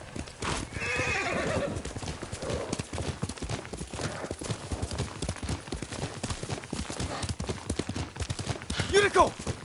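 A horse in Ghost of Tsushima gallops with quick, even hoofbeats that run under the whole stretch, a whinny sounds near the start and another near the end, and someone speaks over the galloping.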